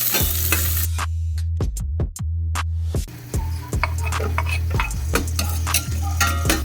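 Onion and garlic sauté in a pan for a Filipino mussel soup with moringa. A steady sizzle runs under repeated sharp scrapes and clinks of a utensil stirring against the pan, close and clear.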